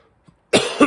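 A single sharp cough bursts out close to the microphone after a moment of near silence, followed by a brief second push of breath at its tail.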